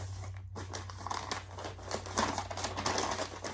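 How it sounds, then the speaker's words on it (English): A paper envelope torn open by hand, a run of close crinkling and ripping bursts over about three seconds, growing slightly louder toward the end, with a steady low hum underneath. "let's get the envelope open here."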